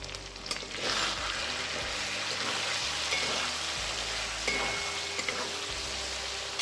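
Cumin and coriander powder frying in a pan while making chickpea dal with egg, a continuous soft sizzle with occasional faint stirring scrapes, moderately quiet and steady, with no speech.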